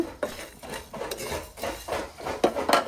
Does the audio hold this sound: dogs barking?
no